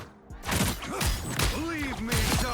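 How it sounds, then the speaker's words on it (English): Doctor Strange in Marvel Rivals lands a double headshot melee and then an explosion. Punchy impacts and a burst ring out close and loud, mixed with bright magical tones and swooping effects. "if I hit like a double headshot melee and then explosion, it goes like this"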